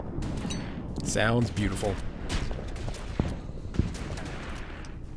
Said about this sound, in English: I love the sound effects in this game. So like that artillery shooting